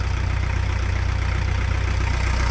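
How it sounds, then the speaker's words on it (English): A narrowboat engine idles steadily and close by, a low, even throb running without a break and carrying a slight tappety clatter. "My engine sounds a little bit tappety"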